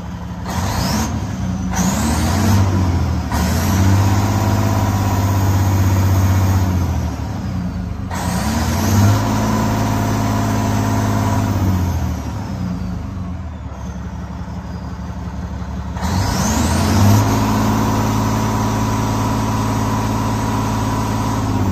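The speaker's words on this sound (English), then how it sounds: "I'm gonna rev it up and let you have a listen to the exhaust." A 2006 Western Star 4900FA truck engine revs up several times, its deep exhaust roar rising and falling in long surges, close and loud.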